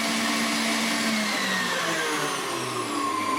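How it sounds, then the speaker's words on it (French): An electric mixer at full speed beats génoise sponge batter, a loud, steady high whir that holds constant throughout, close by with no talking. "mon appareil a bien blanchi"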